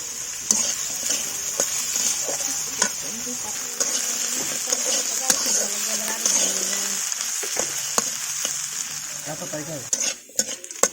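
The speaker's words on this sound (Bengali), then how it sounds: "পেঁয়াজ আর আলু খুব ভালোভাবে ভাজা হয়ে গেছে" Sliced onions and potatoes fry in oil in a pan, giving a steady close sizzle broken by clinks and scrapes of a spatula stirring against the metal.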